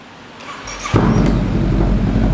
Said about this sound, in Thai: มาพร้อมท่อแต่งจากเดียบโลครับอย่ามาฟังเสียงท่อคันนี้กัน